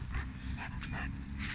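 A dog whines and whimpers eagerly, wanting to play, in a few short high-pitched bursts over a low indoor rumble, close by with no talking.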